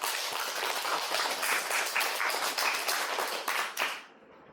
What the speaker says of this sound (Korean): 우리 힘내시라고 박수 한번 쳐주세요.